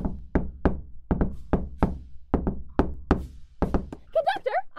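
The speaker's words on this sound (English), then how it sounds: "let's just give a little knock-a-roo" Sharp, close knocks on a door in an audio drama come in quick irregular bursts of about sixteen raps, and a voice speaks briefly at the end.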